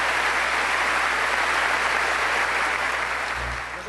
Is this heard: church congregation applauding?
yes